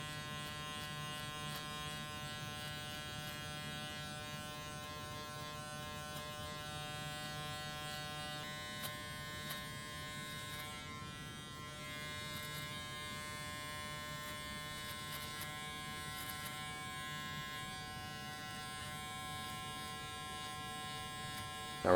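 An electric beard trimmer buzzes steadily and close throughout, cutting through beard hair with the blade guard set, with a continuous high-pitched hum and brief crackles as it passes over the hair.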